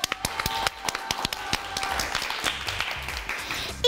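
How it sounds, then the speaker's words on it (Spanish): An audience claps for a performer, a burst of brisk, uneven applause close by that holds steady for a few seconds before thinning out. "Un aplauso para Stephanie."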